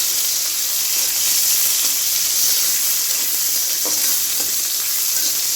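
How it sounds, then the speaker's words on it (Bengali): Dried red chillies, whole cumin seeds, chopped garlic, diced onion and bay leaves fry in hot oil for a pork kala bhuna, giving a loud, continuous sizzle and hiss with occasional stirring clinks. "আস্ত জিরা, কাটলানো রসুন, পেঁয়াজ কুচি, তেজপাতা, এগুলো এখন একদম লাল লাল করে ভেজে নেব।"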